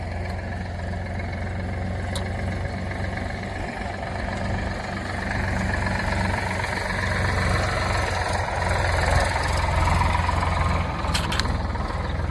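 A farm tractor engine idling nearby, a steady low rumbling drone with faint mechanical rattle that holds constant and swells slightly, with no voices.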